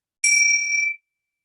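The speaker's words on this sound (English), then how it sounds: "follow the sounds of the gong" A meditation gong struck once, a bright sustained ring with clear steady overtones that holds for under a second and then stops abruptly, alone in silence.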